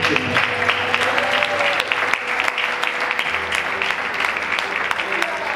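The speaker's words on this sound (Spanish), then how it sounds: "Den un aplauso a las hermanas." A church congregation applauds steadily at a Spanish-language sermon, a dense wash of clapping from many hands that holds at an even level throughout, with some voices mixed in.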